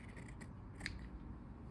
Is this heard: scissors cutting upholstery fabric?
yes